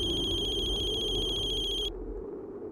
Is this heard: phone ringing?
yes